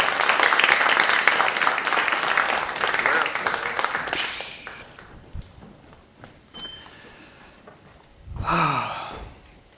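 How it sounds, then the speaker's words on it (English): Audience applause welcoming a speaker at a tech conference on DevOps at startup scale: dense, loud clapping for about four seconds that tapers off, followed by a quieter stretch and a brief burst of noise. "can we give him a round of applause and please take your seats"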